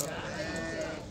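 Sheep bleat at the Chiroqchi livestock market, one drawn-out, moderately loud call over a noisy crowd, with people talking close by.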